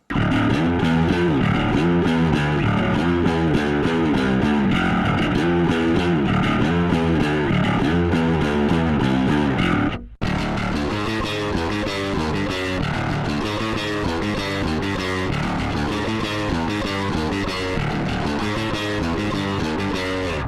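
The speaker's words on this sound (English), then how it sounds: "this nice blend of a big fat clean low end and then this sort of layer of distortion on top" A bass guitar through an Electro-Harmonix Battalion bass DI preamp plays a driving riff with a thick, clean low end layered under a gritty distorted edge. It cuts out briefly midway, then continues.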